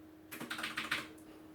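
Quick run of keystrokes on a computer keyboard entering a telnet command, a short burst of light clicks close by at low level, then a single stray tap after a pause.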